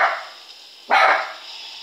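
A dog barks loudly and close by, one sharp burst following a fainter earlier bark-like sound, heard alone without talk.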